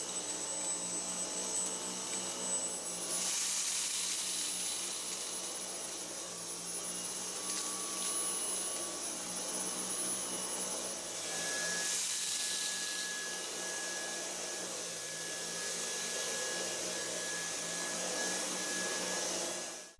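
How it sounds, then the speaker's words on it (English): Dyson Cyclone V10 cordless vacuum cleaner running in max mode over carpet, a loud, continuous high-pitched motor whine and airflow roar that holds steady throughout with slight shifts in pitch. "Large carpet messes are cleaned up well in all modes, but max mode, which is intended for such situations,"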